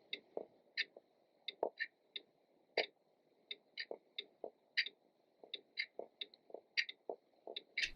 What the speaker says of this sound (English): lives up to its name by making a rather prominent ticking noise.